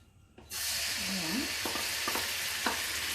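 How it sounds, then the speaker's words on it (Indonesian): A ground spice paste of shallots, garlic, salt and pepper hits hot oil in a pan and bursts into a loud, continuous sizzle that holds steady, with a few light stirring taps. "Sekarang kita mau tumis dulu bumbu halusnya"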